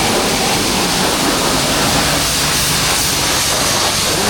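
Pressure washer spraying water onto a motorcycle at a group motorbike-washing event, a loud, steady broadband hiss of high-pressure spray running without pause throughout.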